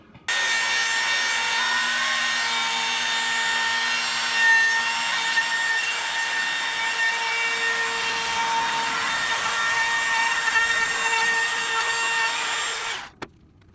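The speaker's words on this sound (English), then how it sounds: "I'm gonna go ahead and route a small round over on it with just this cheap Hercules trim router I've got" Cheap Hercules trim router cutting a small 3/8-inch round-over along a wooden edge, a steady loud high whine with abrasive rubbing that runs continuously for about thirteen seconds, then cuts off abruptly.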